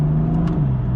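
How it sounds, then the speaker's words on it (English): A Porsche PDK or BMW DCT dual-clutch car accelerating on a 60 mph road, its engine a steady mid-pitched hum with a brief whirring blip as the transmission shifts. "I'll put the car into its second mode, and hopefully you'll be able to see how it shifts now."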